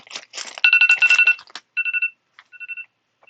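A mobile phone rings right beside the microphone, loud and close, with bursts of repeated electronic tones, brief pauses between them, and crinkling handling noise at the start.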